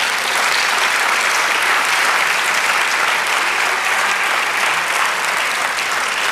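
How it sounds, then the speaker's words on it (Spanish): A church congregation gives a sustained round of applause during a Spanish-language sermon, steady and full-bodied clapping from many hands for about six seconds with no voice over it. "Dale un aplauso."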